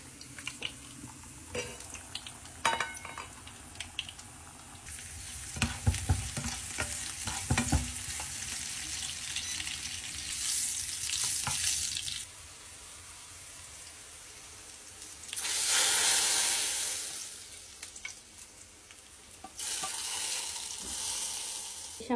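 Garlic and onion sizzle in hot oil for a Bengali lentil tempering, with stirring and the odd scrape of a utensil against the pan; the frying hiss swells and fades steadily throughout.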